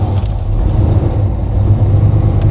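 A 1978 GMC one-ton squarebody dump truck with a V8 and four-speed idles after a cold start, a loud, steady low rumble with a slightly uneven pulse and no talk.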